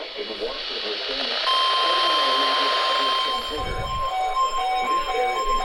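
An Emergency Alert System weekly test alarm tone plays as steady electronic tones over a noisy broadcast hiss, fairly loud and continuous throughout.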